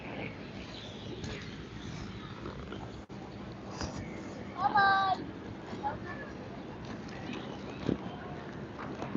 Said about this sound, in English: Little cat came to say hello.